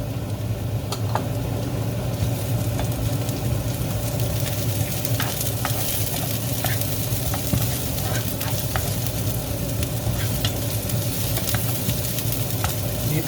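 Onion sautéing in a pan for Bicol Express, a steady close sizzle with occasional stirring scrapes and small crackles throughout.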